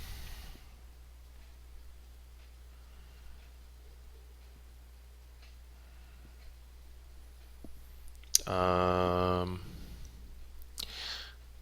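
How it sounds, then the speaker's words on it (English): A computer mouse gives a few faint, soft clicks over a quiet room background, and a short buzzing tone sounds near the end. "Now we should be able to do some Atterbergs. Yeah, now we can double click."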